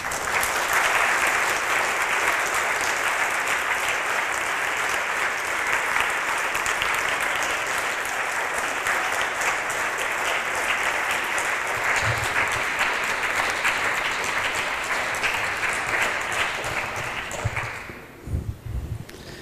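Audience applause at the end of a German-language talk, a dense, steady clapping that fills the room for nearly twenty seconds before thinning out and fading at the very end.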